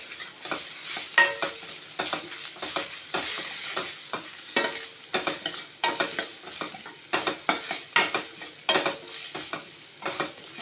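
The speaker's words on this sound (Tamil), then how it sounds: "இப்போ இந்த பச்சை வாசனை போகிற வரைக்கும் கொஞ்சம் வதக்கி விட்டுட்டு" Ginger garlic paste sautéing in a pan for a mint chicken dish, with a soft constant sizzle and frequent rhythmic scrapes and clinks of a spoon stirring against the pan, close up and without speech.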